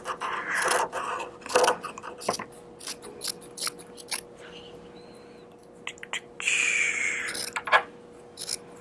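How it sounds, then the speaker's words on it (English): Scissors snip through fabric to cut a strip for a no-sew mask strap, close and fairly quiet, with repeated short cuts, soft scraping and brief pauses. "we need a strip of fabric to serve as our strap that goes around our head. I'm going to cut right off of here again."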